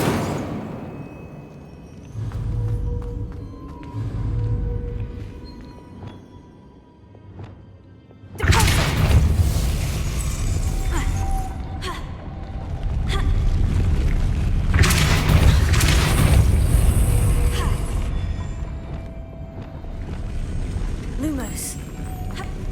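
An Incendio fire spell cast in Hogwarts Legacy erupts in a sudden loud burst partway through, followed by a sustained roaring rush with crashing thuds over quieter game ambience.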